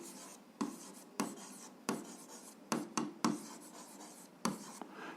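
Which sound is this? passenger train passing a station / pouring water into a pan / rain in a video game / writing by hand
writing by hand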